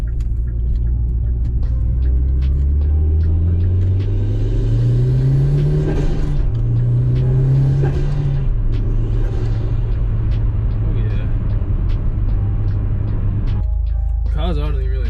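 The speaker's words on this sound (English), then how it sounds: "Car's idling really nicely." A car with a check engine light issue idles with a loud, steady low rumble; its engine tone rises and wavers early on, then settles, while a voice talks over it.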